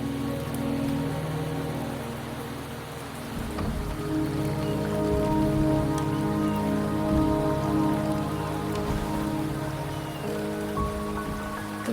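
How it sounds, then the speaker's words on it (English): Steady rain falls in a Wuthering Waves game scene, a continuous close patter on surfaces layered with sustained tonal ambience and music, fairly loud and even throughout. "The rain is subsiding, and the sky will soon clear."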